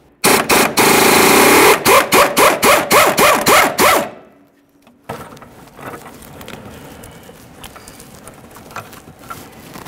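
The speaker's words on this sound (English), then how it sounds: "we'll be using a 21mm on each side. Remove the mounting nut and the mounting bolts." A 21mm socket tool removes the mounting nut and bolts on the upper control arm of a 1998-2011 Ford Ranger, starting with loud rapid ratcheting bursts, then a pause and quieter metallic handling and shuffling.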